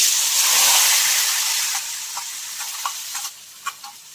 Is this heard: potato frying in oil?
yes